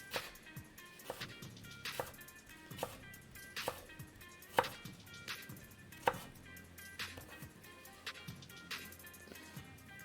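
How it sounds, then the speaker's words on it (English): A kitchen knife cutting vegetable planks into fine julienne sticks on a board: quick, regular close taps with a few louder knocks, steady rhythm, quiet room, no speech. "We're going to cut them in what is called a julienne."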